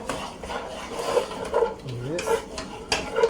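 Hot mashed potatoes being stirred together with butter, a soft, squelching rub and scrape of a utensil through the thick mash, close and continuous, with a person speaking briefly over it.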